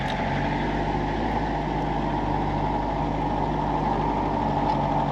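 A French G wagon in four-wheel drive climbs a hill across a field, its engine giving a steady low rumbling drone throughout, close and continuous with no talk.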